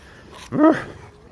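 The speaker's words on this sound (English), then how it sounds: "There's a husky over there." A husky gives a single short, close bark over low background hum.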